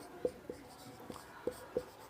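Chalk or marker writing on a board during a Class 8 math lesson, with several short sharp strokes and taps spaced across a quiet room hum, fairly faint and close, no voices.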